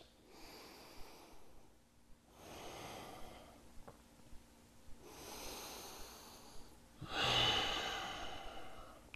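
Slow, audible breaths during a seated yoga twist in a beginner men's session, long inhales and exhales alternating in a steady cycle, close and breathy with a sharper, louder exhale near the end.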